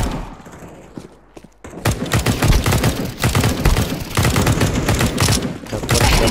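Rapid gunfire in a Counter-Strike 2 deathmatch on the Dust 2 map: dense, loud overlapping bursts of shots and impacts that start after a quiet opening and keep crackling almost without pause to the end.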